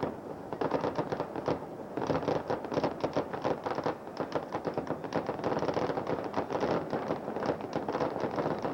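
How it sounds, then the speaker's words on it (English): Fireworks burst overhead at a stadium's ribbon-cutting ceremony before an Orioles baseball game, a rapid, dense crackle of many reports running steadily throughout, loud and continuous with no talk. "Fireworks overhead, and the ribbon's been cut."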